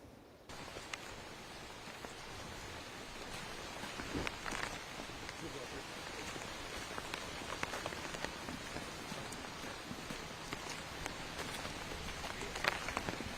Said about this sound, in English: it seems to be picking up in terms of the rain